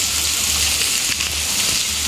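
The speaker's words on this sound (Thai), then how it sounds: "มีน้ำไหลมา จากข้างบนนะคะ" Rainwater runs down from a large rock slab overhead at a Thai cave temple, making a steady, even hiss of falling and splashing water that holds at moderate loudness without break.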